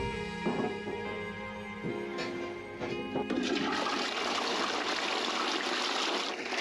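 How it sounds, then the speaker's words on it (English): An indoor flushing toilet newly installed in a Portuguese farmhouse under renovation flushes with a loud, close rush of water that swells and keeps churning steadily, with no one talking. "Soon we were able to install an indoor flushing toilet"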